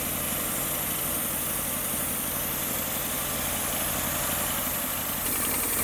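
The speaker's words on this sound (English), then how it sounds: "I think we developed an exhaust leak" A Ford Maverick engine with an exhaust leak drones steadily throughout with a rough, raspy exhaust note and a faint rhythmic ticking, loud and close, with no talking.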